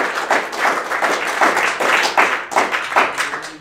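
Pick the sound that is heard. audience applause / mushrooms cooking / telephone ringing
audience applause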